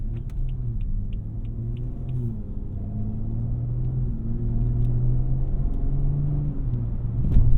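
A tuned BMW 340i xDrive on coilovers, heard from inside the cabin, gives a steady low engine drone and road rumble that holds level as it pulls through shifts, with faint high clicks early and a short knock near the end.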